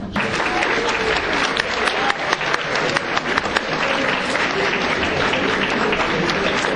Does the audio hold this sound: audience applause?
yes